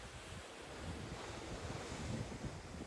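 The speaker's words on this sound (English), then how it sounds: "We are in the middle of the Pacific Ocean." Ocean waves and wind in the middle of the Pacific Ocean aboard a cruise, a steady broad wash of surf with buffeting wind noise and no voices.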